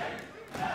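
A crowd at an esports match, the EU LCS Spring 2016 playoff semifinal between Fnatic and G2 Esports, roars in a brief, dense swell, with a voice mixed in.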